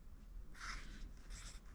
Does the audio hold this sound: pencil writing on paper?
yes